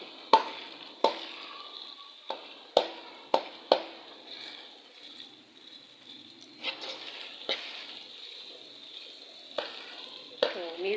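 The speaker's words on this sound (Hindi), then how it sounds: "अब इसको थोड़ा सा भूनूंगी।" Dal with bitter gourd masala and turmeric is stirred in a pan, a faint sizzle running under sharp, irregular spoon scrapes and knocks spread across the stretch.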